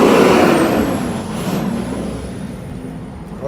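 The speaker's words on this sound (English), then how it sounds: "Big rig coming." A big rig truck rolls past on the road, a loud near whoosh that fades as it goes, with a sharp hiss of air brakes mid-pass.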